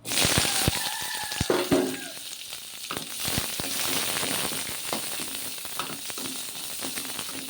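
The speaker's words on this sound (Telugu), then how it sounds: "కొంచెం నూనెలో వేపుకుందామండి" Onions frying in a little oil in a kitchen pan, a steady close sizzle with occasional spatter pops and light stirring clicks throughout.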